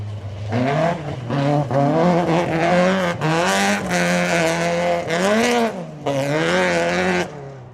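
A new Opel Manta 400 rally car drives hard on a rally stage, its engine revving loudly and changing pitch through repeated gear shifts, rising and falling in bursts, close and dominant with no voices.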